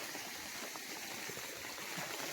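Rainwater pours steadily from a pipe on a hillside during heavy monsoon rain in a village, a continuous rushing, bubbling flow heard close and fairly faint, with no voices.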